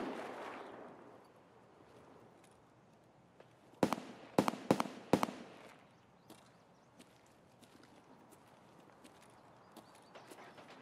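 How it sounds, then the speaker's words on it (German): Distant suppressed gunfire in Escape from Tarkov: a quick cluster of four or five muffled sharp cracks over quiet ambient noise, then a few fainter scattered pops. "Hinten irgendwo schallgedämpfte Schüsse."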